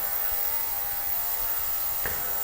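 An ultrasonic cleaner runs with a steady mechanical buzzing hum throughout, with a brief faint click near the end.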